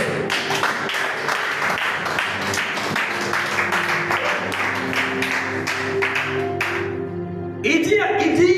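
A church congregation applauds in a steady, dense patter of clapping that carries on for several seconds alongside music and voices, then gives way to a louder voice near the end.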